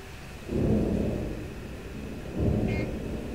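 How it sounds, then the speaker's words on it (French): Thunder rumbles in the Jurassic Park Operation Genesis video game as a storm approaches, with two low rolling swells over a steady rain-like hiss and a faint tone near the end, without talking. "Attention, une tempête approche."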